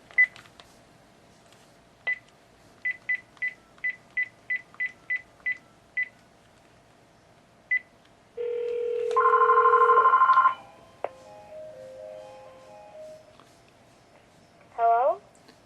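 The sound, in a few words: old cordless phone dialing and ringing via Magic Jack VOIP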